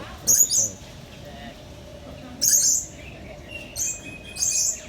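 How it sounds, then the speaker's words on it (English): Several bright canary chirps come in short bursts at a middling distance, separated by pauses, over a quiet outdoor background at Animal Kingdom. "A canary is just somewhere."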